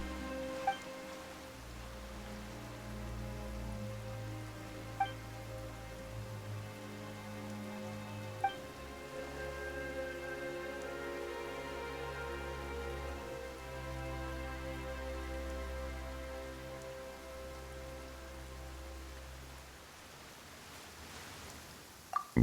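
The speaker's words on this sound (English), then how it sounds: "Why is it raining all of a sudden?" Rain falling in the video game Genshin Impact: a steady soft hiss of rainfall over a low hum of game ambience, with a few faint drip-like ticks, continuous and moderate in level without speech.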